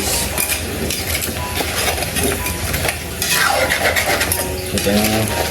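A utensil stirs a sausage dish with pepper in a metal pan, scraping and clinking steadily against the pan over a soft sizzle, with faint scattered talk.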